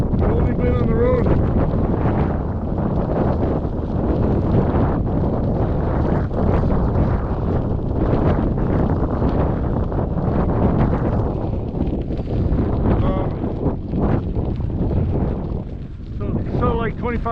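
Strong wind blowing outdoors on a trail, buffeting the microphone as a loud, steady rushing roar that fills the whole stretch with only slight rises and dips.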